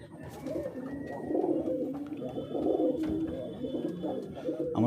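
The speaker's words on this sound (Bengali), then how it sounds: "দেখেন কি সুন্দর কবুতর।" Pet pigeons in a pigeon house cooing softly and continuously, low throaty calls rising and falling in a few swells, fairly faint with light background noise.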